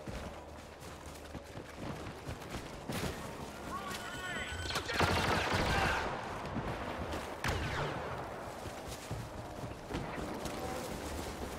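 Video game gunfire, rapid bursts and scattered shots crackling from several weapons at once at a steady moderate level, with a player's voice talking over the shooting.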